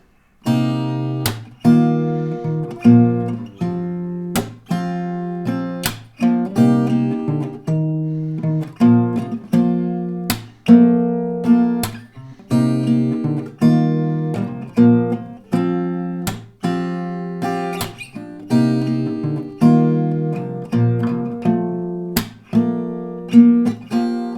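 Guitar chords strummed in a steady rhythm, each strum a sharp bright attack ringing out, with occasional percussive slaps between them, no voices.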